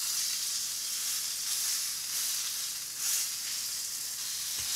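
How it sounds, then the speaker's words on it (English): Goose breast sears in a Teflon pan with a steady, bright sizzle that holds evenly throughout, close and alone with no voices. "I use a Teflon pan so it's not going to stick. And really all we want to do is just sear it golden brown"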